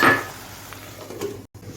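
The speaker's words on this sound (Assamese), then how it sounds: "এতিয়া আমি পুনৰ ঢাকনি মাৰি এইখিনি সিজিবলৈ দিম" A metal lid is set onto a cooking pan of frying pumpkin stems and leaves, giving one short clattering clink with a faint metallic ring, followed by quiet kitchen background.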